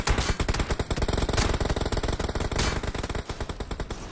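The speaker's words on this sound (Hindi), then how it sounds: "अब जिधर से गोलियां चली मैं उधर की तरफ गया साउंड को फॉलो करते हुए" Rapid automatic gunfire in the PUBG Mobile game rattles in long, loud, close bursts of evenly spaced shots, with a couple of heavier cracks in the stream and the rate easing toward the end.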